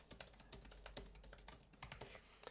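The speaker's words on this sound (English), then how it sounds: "if you just start typing" Quick, soft clicks of typing on a computer keyboard run in an irregular rhythm, close but faint, with no voice heard.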